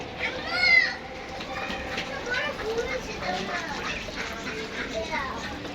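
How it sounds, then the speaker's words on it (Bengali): Ducks being kept on a rooftop quack and chatter as they eat, several birds calling close together in overlapping bursts, with children's voices mixed in. "এই যে আমার হাঁসগুলা খাবার খাচ্ছে"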